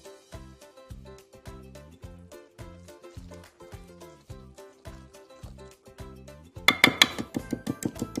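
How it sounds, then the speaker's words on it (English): A whisk beating spiced pumpkin bread batter in a bowl: rhythmic metallic clinks against the bowl's side, steady and close, turning quicker and louder near the end. "I'll start with the whisk"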